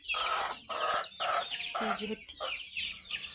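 Chickens cluck on a goat farm in a quick series of five or six loud, close bursts with brief gaps between them, a busy farmyard sound with no one talking.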